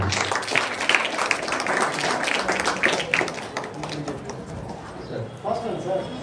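A school naat competition audience applauds loudly and steadily, a dense wash of many hands clapping that runs the whole time with voices mixed in, easing slightly toward the end.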